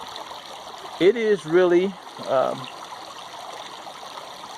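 A creek flows steadily in an Indiana state forest, a soft broadband rush of running water heard throughout under a man's brief nearby speech.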